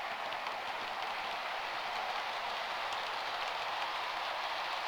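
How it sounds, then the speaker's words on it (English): A model railway train pulled by a Network Rail locomotive runs along a DC layout, giving a steady, continuous hissing rumble that holds evenly throughout with no voices over it. "here comes the jolly old banana train"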